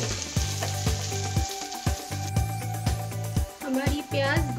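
Two large chopped onions fry in oil toward golden brown, a continuous close sizzle broken by regular clanking strokes of a spoon against the pan, with a low hum underneath.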